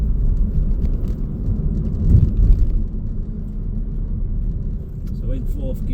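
Volkswagen Transporter 2.0 TDI T30 Highline van driving over bumps and potholes, low road rumble with a louder thump midway, heard from inside the cabin while someone talks.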